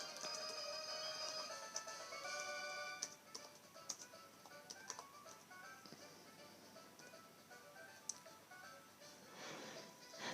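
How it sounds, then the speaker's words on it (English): Fingers tap on a computer keyboard, producing faint, quiet clicks in an irregular rhythm. "Sorry, I was just typing something down on the video I was uploading."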